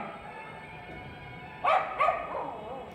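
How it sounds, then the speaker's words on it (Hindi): A dog barks twice in quick succession at moderate distance, short sharp yaps standing out over a steady low background hum. "लो फिर भौंकना, अरे ज़्यादा देखो, फिर शुरू हो गई।"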